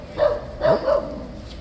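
A dog barks three times in quick succession outdoors near Horse Guards, close and fairly loud, with short yelping tones and quiet background noise after.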